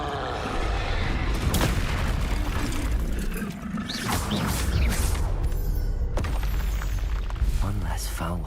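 A Confringo blasting spell in Hogwarts Legacy goes off with booming explosive bursts amid battle noise, loud and close, while a voice shouts over the clash.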